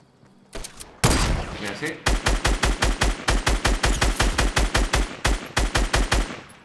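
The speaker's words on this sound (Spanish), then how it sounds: "El sniper que no para de dispararme." A rapid, steady series of loud gunshots from a Fortnite Battle Royale match rattles on for several seconds after a sharp opening blast, with a voice speaking briefly at the start.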